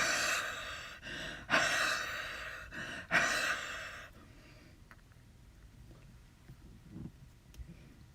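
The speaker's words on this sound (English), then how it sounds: "Now is where you huff. And huffing means basically you're going to exhale on it, and your moist breath is going to wet it back up again." Three breathy exhalations huff onto an inked rubber stamp in quick succession, each a soft airy rush, followed by quiet room noise and faint small handling sounds.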